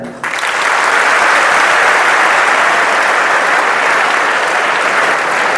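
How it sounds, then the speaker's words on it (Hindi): A large group of schoolchildren claps together in a hall, a dense, loud, continuous burst of applause that starts abruptly and holds steady to the end, with no talk over it. "ताली बजाओ।"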